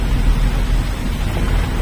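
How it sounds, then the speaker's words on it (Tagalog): Heavy rain drumming steadily on a moving car, a dense, loud, continuous wash of noise with a low rumble underneath. "Medyo malakas ang ulan."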